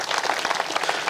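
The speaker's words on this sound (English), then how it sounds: "Y'all clap it up for them." A crowd applauding at an outdoor statue unveiling ceremony for Dawn Staley in Columbia, dense steady clapping from many hands at close range.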